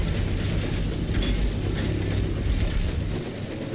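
A hand-charged cannon powers up in Space Marine 2: a steady, loud mechanical ratcheting and grinding whir over a deep rumble, holding constant for several seconds before easing off near the end. No voices.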